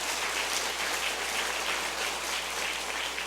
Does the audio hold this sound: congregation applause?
yes